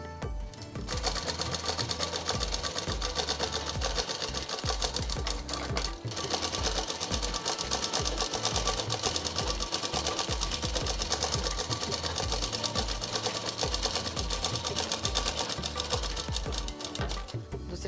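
Sewing machine running a continuous double stitch along the waist seam of a plain frock, a dense, fast, steady whirring chatter that stays close and even throughout.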